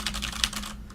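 Rapid clicks from a mechanical keyboard with clear switches, a steady rhythm of close, crisp keystrokes over a low hum, without talk.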